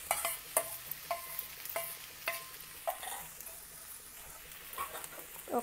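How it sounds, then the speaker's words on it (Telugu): Soaked sago pearls are stirred into a hot tempering in a pan, giving a soft continuous sizzle broken by repeated scraping and tapping strokes of the spoon at an irregular rhythm, moderately close. "ఇప్పుడు ఈ పోపులోనే మనం నానబెట్టుకున్న సగ్గుబియ్యం కూడా వేసి ఒక్కసారి కలపాలి"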